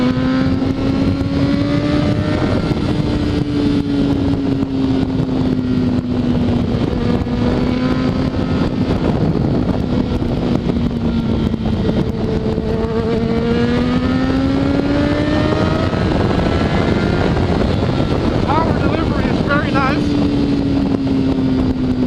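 A Honda CBR600RR sport motorcycle rolls along twisty roads in third gear, its engine note rising and falling smoothly and steadily under constant wind rush.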